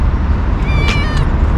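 A cat meows close by, a couple of short tonal calls over a steady broadband background hum, outdoors in Sharjah, with no voices heard.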